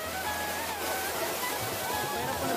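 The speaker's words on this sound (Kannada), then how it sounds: "ಅಲ್ಲಿಂದ ಹರಿದು ಬರ್ತದೆ ನೀರು, ಇಲ್ಲಿ ಬಂದು ಸೇರಿ ಮುಂದೆ ಹಿಂಗೆ ಹರಿದು ಹೋಗ್ತದೆ." Water rushing at Bhairappa falls in Kalghatgi, a steady, close broadband roar, with faint whistling tones and low rumbles mixed in.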